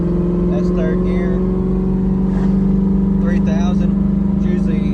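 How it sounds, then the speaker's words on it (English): A 1995 Ford Mustang engine, with a vacuum leak and a fault that makes it break up near 3,000 rpm, drones loud and steady while cruising in third gear, as someone talks over it. "Right now, as you can see, we're just cruising along. That's third gear."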